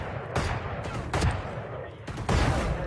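Video game gunfire in repeated loud bursts of rapid shots, several volleys separated by short pauses, with a player talking over the action.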